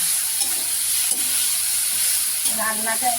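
Samosa-style filling cooks in a pan with a steady soft sizzle and hiss, a spoon stirring and scraping now and then, close and continuous.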